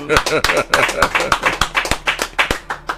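A crowd claps in a quick, uneven patter of sharp hand slaps, fairly close and steady, with voices over the applause.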